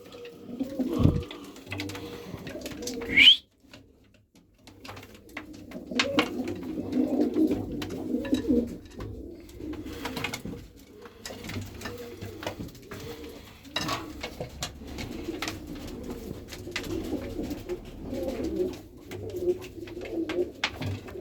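Feather-footed Iraqi tumbler pigeons coo in soft, repeated low throaty phrases, continuing for a long stretch with occasional rustles and taps nearby.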